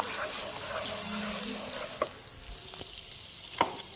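Semolina roasting in hot ghee in a wok for mung dal halwa gives a soft, steady frying sizzle with a few light stirring scrapes, close and moderately quiet.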